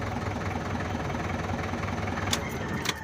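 Small engine catching and running steadily after priming, a continuous close mechanical hum with rapid knocking pulses and a couple of brief sharp clicks near the end.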